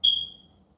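A single short, high-pitched electronic low-battery chirp from a smoke alarm, fading quickly into a quiet room.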